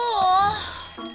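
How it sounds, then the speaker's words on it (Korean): An alarm clock rings in a shared home with a bright, warbling electronic tone, fairly loud and continuous, while a person talks over it near the end. "알람 좀 끄라고"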